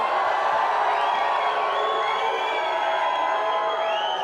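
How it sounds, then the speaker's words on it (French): A studio audience on a French television game show cheers and applauds steadily for a contestant, a dense, loud wall of clapping with whoops and shouts throughout, no pauses. "Applaudissements pour Gisèle Flavy, s'il vous plaît."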